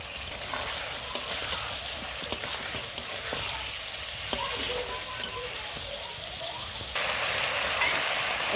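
Ground masala paste for mutton pulao fries in a pan with a steady low sizzle, punctuated by occasional clicks of stirring, no talking.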